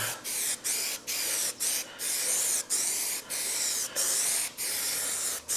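Spray gun laying down a textured spider-web coating on a Corvette body, a loud steady hiss in bursts of roughly half a second to a second, broken by short pauses between passes, with no talking.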